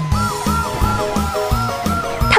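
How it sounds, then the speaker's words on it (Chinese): A fire truck siren in a children's cartoon wails loudly in repeated rising and falling sweeps, set over a steady rhythmic beat of bouncy backing sounds. "哇呜哇呜，消防车灭火，不怕不退缩"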